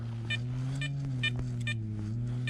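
Short electronic metal detector signal beeps repeat at a steady rhythm, about five of them, over a constant low droning hum.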